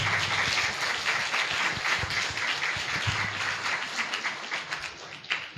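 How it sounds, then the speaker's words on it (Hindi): An audience at a Sunday service claps loudly for the Sunday school superintendent, a dense, steady burst of applause that holds for several seconds without any talk over it. "हम एक बार जोर से ताली बजाएंगे दीदी के लिए"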